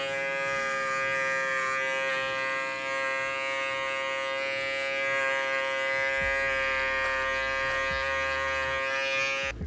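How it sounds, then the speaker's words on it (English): An electric shaver buzzes steadily and loudly up close as it passes through hair against the grain during a taper fade haircut, its tone shifting slightly with pressure, without any speech. "once you pass the electric shaver through once"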